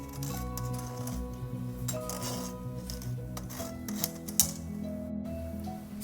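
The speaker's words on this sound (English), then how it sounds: "You can hear the voice of the spoon touching it" A metal spoon scrapes and taps against a sifter while dry cupcake ingredients are sifted, making light, irregular clinks and rasping scrapes close up over a steady background hum.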